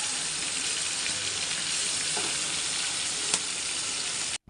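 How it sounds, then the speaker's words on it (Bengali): Steady, loud sizzling of chicken meat frying in a pan with turmeric, chili and spices, a continuous bright crackle with a brief clink of a utensil near the end. "মুরগির মাংস ভাজতেছি হলুদ মরিচ ময় মশলা দিয়ে"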